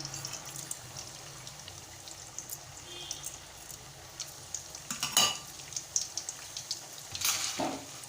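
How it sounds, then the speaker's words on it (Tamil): Fennel seeds and cinnamon sticks tempering in hot oil in a kadai give a quiet, low sizzle with scattered clinks of a spoon against the pan, growing a little busier toward the end. "அதில் சோம்பும் பட்டையும் போட்டு தாளிச்சுக்கலாம்"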